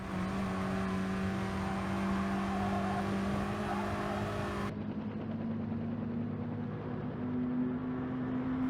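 A VW Scirocco race car in Gran Turismo Sport on the Autodrome Lago Maggiore West circuit, its engine droning loud and steady at high revs, the pitch shifting and climbing after a gear change midway, no talk.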